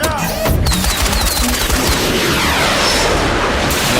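Missiles launch in an animated superhero action scene, bursting out as a dense run of rapid booms and blasts that fills the whole moment, loud and continuous, with no speech.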